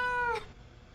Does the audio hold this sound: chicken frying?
no